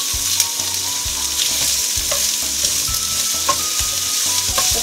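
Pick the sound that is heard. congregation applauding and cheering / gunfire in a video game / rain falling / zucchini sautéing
zucchini sautéing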